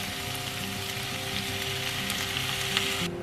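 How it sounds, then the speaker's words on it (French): Lemon juice is added to a hot pan that sizzles and crackles steadily up close, a dense frying hiss that holds for about three seconds before cutting off. "Du coup là je vais rajouter le jus d'un citron."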